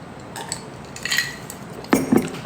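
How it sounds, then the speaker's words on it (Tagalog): Plates and cutlery clink and clatter during dishwashing, with a few light taps early on and two louder, close clattering bursts near the end, no talking. "Maghugas pa ako ng pinggan, Seb."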